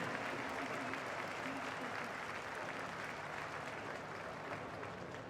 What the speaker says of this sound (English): Please give a big round of applause to Sam Wikes.